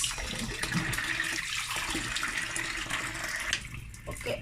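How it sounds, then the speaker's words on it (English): Tap water pours and splashes close by over overnight-soaked beans being rinsed for moi moi, a steady gushing flow that thins out near the end, with no speech. "So I'm just going to rinse it"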